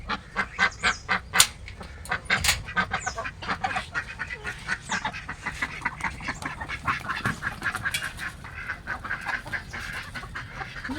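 Ducks quack in a rapid, repeated chorus close by, with other poultry calls mixed in and a busy farmyard background.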